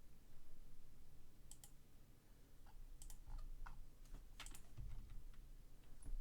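Quick, light clicks come in small scattered bursts, made by a computer mouse at a music production desk. They sound faint and close over a soft background hiss, with no talking.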